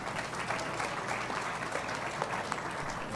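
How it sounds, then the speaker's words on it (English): A room full of people clapping steadily, dense crackling applause that holds at an even level throughout. "That deserves a round of applause."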